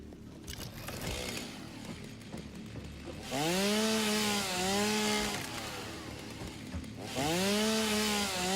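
Chainsaw in the video game Satisfactory cutting trees: a revving motor whine that rises and bends in pitch as it bites, in two long bursts with a brief idle between, loud and close with no talking.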